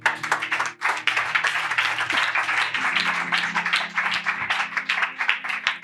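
A church congregation claps and applauds continuously during worship, a dense, lively patter of many hands close by, with a low sustained hum of voices or instruments underneath.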